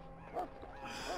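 In the video game Dragon Age: Origins, a dog gives a few short, muffled barks and yips at a moderate distance, faint against a quiet background.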